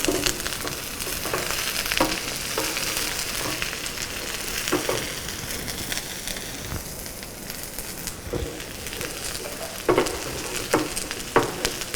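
Chopped onions and curry leaves frying in coconut oil for a Nanjil-style squid thoran, a steady close sizzle with occasional sharper crackles and stirring knocks, no voices.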